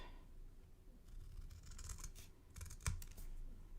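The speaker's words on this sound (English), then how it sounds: "you're going to draw that line and you're going to snip that off" Scissors snipping a strip off a piece of card, a few faint crisp cuts and rustling of paper up close, with one sharper snip near the end.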